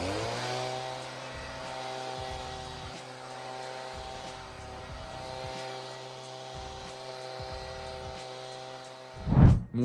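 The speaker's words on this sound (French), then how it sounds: "Maintenant, on va passer le souffleur." A petrol leaf blower drones steadily at close range, holding a constant pitch with slight fluctuations, then ends in a brief louder burst.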